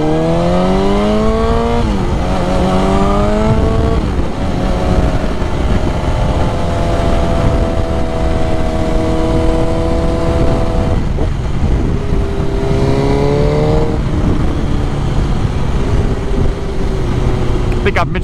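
A 2001 Suzuki GSX-R 1000 sportbike cruises along a road, its engine note climbing and falling through gear changes in a loud, continuous whine with wind rush, while the rider talks over it.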